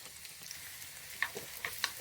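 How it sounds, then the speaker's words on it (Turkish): Onion and pepper fry in hot olive oil in a pot, giving a faint steady sizzle with scattered soft crackles and a few sharper pops, without any talking. "Yağ kızdıktan sonra soğan ve biber koyalım."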